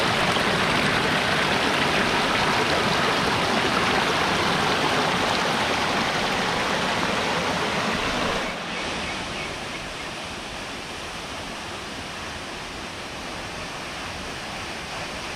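A river stream near Gitgit waterfall in Bali rushes loudly and steadily as a dense, continuous roar of water, dropping slightly in level partway through, with no talk.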